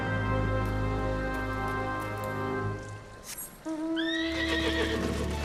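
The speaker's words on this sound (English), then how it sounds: "Hey, I got my horsey." A horse mount in Final Fantasy XIV lets out a clear, rising whinny near the end, after a steady stretch of game music and ambient tones.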